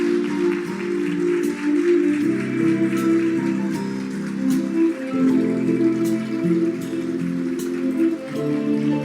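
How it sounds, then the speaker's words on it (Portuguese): Warm applause for the mothers in the audience at an in-person event, a dense, steady patter of many hands clapping at close range, loud and sustained, with a tonal sound running beneath it. "uma calorosa salva de palmas para as nossas mamães"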